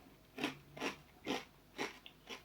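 Crunchy protein cereal being bitten and chewed, five distinct crisp crunches at a steady rhythm, close and fairly quiet with no talk.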